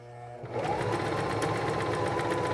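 Singer 1234 sewing machine stitching a zipper into fabric, starting after a brief quiet moment and then running as a steady, close, continuous mechanical whir with rapid needle clatter.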